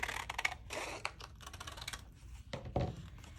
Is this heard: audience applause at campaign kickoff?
no